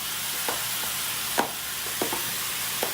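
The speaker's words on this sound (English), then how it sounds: "all you do is just stir it up as the meat is browning" Ground meat sizzling and browning in a pot for taco soup, a steady frying hiss broken by a few soft scrapes of a spoon stirring it.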